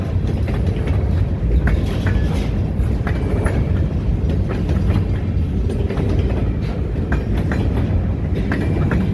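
A long freight train of about fifty cars, Great Lakes Central Railroad units heading north toward Owosso, Michigan, rumbles past close by in a steady loud roar with faint wheel clatter throughout.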